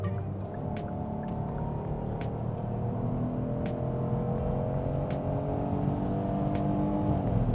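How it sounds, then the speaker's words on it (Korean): A Hyundai Grandeur GN7 with the 3.5 engine in sport mode accelerating to overtake, heard from inside as a steady engine drone that rises gradually in pitch, with road noise underneath. "추월 가속을 한번 해보겠습니다."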